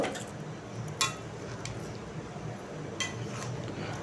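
Stirring potato and papad curry in a home kitchen pan, with soft scraping and squishing throughout and two sharp clinks of a spoon against the pan.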